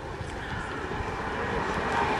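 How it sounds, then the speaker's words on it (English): A Boeing CH-47D Chinook twin-rotor helicopter at a 2007 airshow gives off a steady, loud, broadband engine and rotor roar, continuous and fairly near, with faint speech underneath. "Originally designed as the Boeing CH-47, this being the Boeing CH-47D model."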